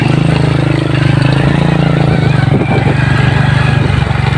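A motorcycle engine revs loud and close on a muddy palm plantation track, a throbbing steady drone with rising throttle pulses, with brief speech nearby.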